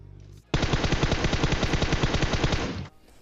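A rapid burst of automatic gunfire in PUBG Mobile, loud and close, rattling steadily for about two seconds before cutting off.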